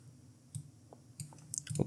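Computer mouse clicks while working in an Android emulator, a few soft, sparse clicks close by with no talking.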